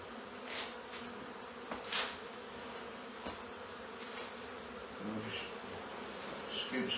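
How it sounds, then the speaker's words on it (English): Swarm of honey bees buzzing during removal and relocation from a chimney in Congleton, a continuous close hum with individual bees droning past, faint and steady. "Scoop some of the bees up, just drop them in next to it."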